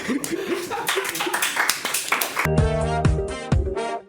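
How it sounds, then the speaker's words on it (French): A game show audience claps and cheers in a quick burst for about two seconds before a bright musical sting takes over. "On les applaudit très fort."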